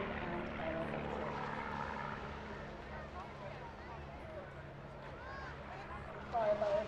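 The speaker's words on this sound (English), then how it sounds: "They'll be flying in formation routine with smoke clearing to get plenty of good photographs and give you a good demonstration of formation flying and aerobatic." Firebirds aerobatic team aircraft flying a formation display over the beach at Clacton Airshow, a steady, fairly distant engine drone that swells slightly toward the end, with faint voices around it.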